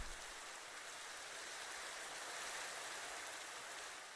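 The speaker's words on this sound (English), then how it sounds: "Rain's a bit loud." Rain falling in a lakeside scene of a building game, a steady, even hiss with no gaps, fairly faint and heard alone.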